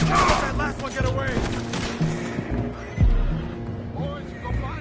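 Horses neigh and whinny loudly amid a chaotic gunfight in the video game Red Dead Redemption 2, with gunshots, hoof sounds and shouting voices mixed around repeated whinnies.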